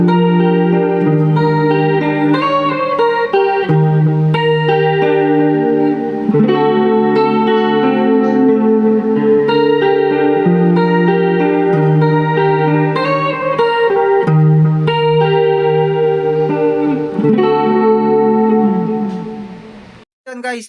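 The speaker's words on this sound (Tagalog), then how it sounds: "So, ito yung, yung tunog ng just clean with chorus saka delay." Clean electric guitar played through a Chameleon 30-watt amplifier with chorus and delay switched on, a loud flowing run of arpeggiated chords and single notes shimmering and echoing for about twenty seconds before stopping.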